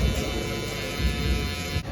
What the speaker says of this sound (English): Once I get closer to the top, I kind of just bring the shaver down.